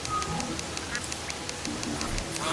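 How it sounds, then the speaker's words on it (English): Ducks quacking in the video game Terraria, several short nasal quacks scattered over steady game background noise, with people talking quietly. "Yeah, the ducks say quack."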